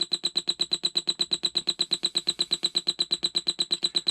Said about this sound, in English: So the alarm does work.